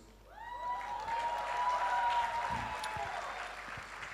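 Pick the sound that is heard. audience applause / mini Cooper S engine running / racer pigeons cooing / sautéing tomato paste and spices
audience applause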